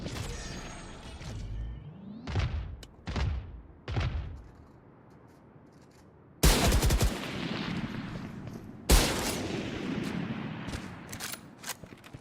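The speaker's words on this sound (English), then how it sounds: "All missiles away." Missile launches in a video game battle: several whooshing rising blasts in quick succession, then two heavy loud explosions followed by rumbling noise and scattered bursts.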